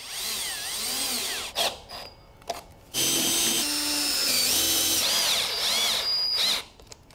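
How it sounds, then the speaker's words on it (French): Power drill driving screws into a roller-shutter rail while a window is replaced, two loud close whirring bursts with rising and falling motor pitch, separated by a brief pause and short clicks. "Fixe avec des vis."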